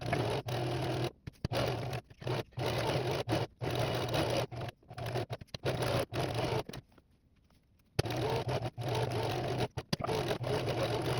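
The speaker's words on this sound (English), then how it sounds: "I'm gonna sew this together" A sewing machine stitching fabric for a cosplay jonin vest, close and loud, running in stop-start bursts with short gaps and a longer pause near the middle, no speech over it.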